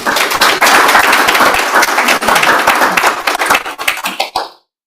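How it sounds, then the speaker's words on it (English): A conference audience at an opening plenary breaks into loud, close applause, dense clapping with sharp individual hand strikes that thins out and cuts off abruptly near the end. "A round of applause."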